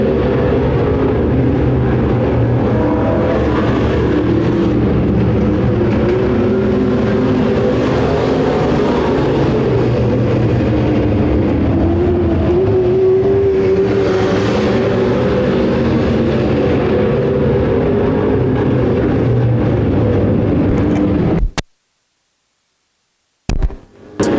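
Several race cars battle closely for the lead on an oval racetrack, their engines a loud, continuous roar with rising and falling pitch as the pack passes, ending abruptly in silence.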